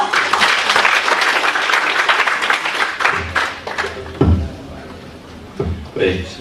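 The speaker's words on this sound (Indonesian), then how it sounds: "Kita sambut Mas Ipang Wahid, berikan aplaus" Audience applause welcoming a speaker at a branding talk, loud sustained clapping from a crowd that fades after about three seconds into scattered claps and a few knocks.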